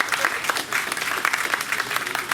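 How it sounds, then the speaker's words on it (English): A crowd at a Coconut Grove Little Bahamas celebration claps loudly for two commissioners, with sharp individual claps standing out in a busy, close ovation. "Let's give them a big round of applause"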